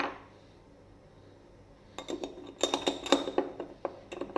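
A metal spoon clinks and rattles against a container while stirring nigella oil into a homemade shower gel, starting after a quiet pause with a burst of sharp, close, irregular taps and scrapes.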